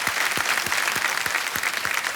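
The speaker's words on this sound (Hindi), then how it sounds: "तालियों के साथ हम आपका अभिनंदन करते हैं" Studio audience applause welcoming a contestant on a television quiz game show, dense steady clapping punctuated by a regular rhythmic beat, loud and continuous.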